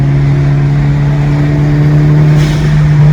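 A 2006–2011 Honda Civic with a built block and head idling on a dyno, a loud, steady low engine hum with a constant pitch and no revving.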